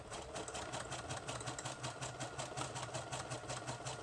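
A sewing machine runs a zigzag stitch across a junk journal page, giving a soft, even, rapid mechanical chatter with a steady rhythm throughout. It is quiet, and no one speaks.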